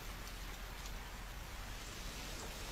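Rain pours down in an animated series scene, a dense, steady wash of hiss and patter with no pauses, moderately loud throughout.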